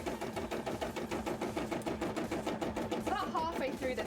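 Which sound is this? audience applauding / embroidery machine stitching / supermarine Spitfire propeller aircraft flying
embroidery machine stitching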